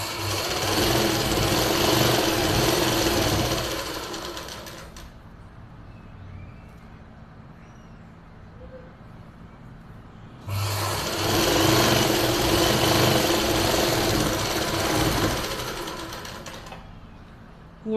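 A sewing machine stitches a dhoti salwar in two loud bursts of steady running, each lasting a few seconds. A quiet pause sits between them.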